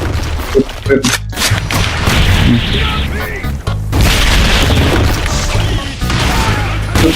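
Repeated booming blasts and crashing thuds from the explosive character Kira in a ranked 2v2 Aba game match fill the clip, loud and dense, with voices talking over them.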